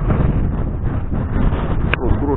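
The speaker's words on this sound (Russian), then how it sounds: "Ветер так дует, аж камеру сносит." Strong wind buffeting the microphone on the bank of the Amur River, a low rumbling roar throughout with a voice speaking over it.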